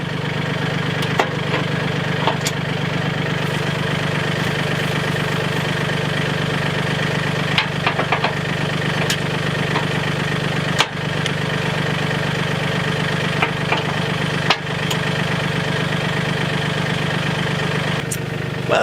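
Small tractor fitted with a backhoe sits with its engine running at a steady idle, a continuous close mechanical drone with occasional knocks and clanks of metal and wood over it, no talk.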